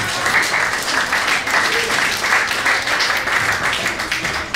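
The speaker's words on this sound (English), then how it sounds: "Let's get a big round of applause for all of our volunteers." A comedy show audience gives a big, sustained round of applause for volunteers, dense clapping filling the room at full volume for the whole stretch.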